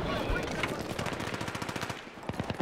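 Rapid automatic gunfire in Battlefield 3, a dense stream of loud bursts and single shots crackling close by almost without pause, with a voice faintly underneath.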